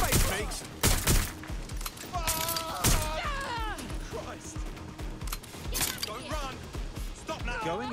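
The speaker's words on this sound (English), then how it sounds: "Shots fired, shots fired. Need some cover. Taking fire." Gunfire crackles in sharp bursts and single shots in the video game Watch Dogs: Legion, mixed with mechanical clunks and in-game voices talking.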